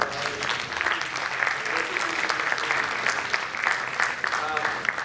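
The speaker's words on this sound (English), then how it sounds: "So please again give a big round of applause." An audience at a panel discussion on emerging technologies in the energy transition gives a dense, steady round of applause that holds at moderate loudness throughout, with a faint voice underneath.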